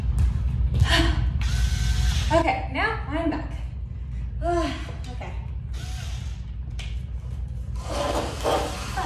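Screws being turned out of a large cardboard tube holding a Wright Equipment Olympic barbell with a hand screwdriver, giving close, repeated ratcheting creaks and rubbing squeaks in short bursts over a steady background hum.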